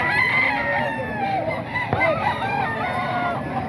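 Several chickens and roosters crow and cluck at a busy poultry market in Grotto, loud and overlapping throughout with a steady crowd background and faint voices.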